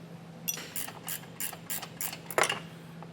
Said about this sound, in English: I'm going to just use a ratcheting 18 to be able to remove that.